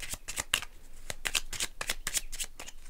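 Tarot cards being shuffled up close, a rapid run of crisp riffling flicks and slaps in quick irregular bursts, with no talking.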